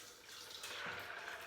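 A liter of water pours into a blender jar while almond milk with cardamom, cinnamon and ginger is made, a faint, steady splashing rush with no talk.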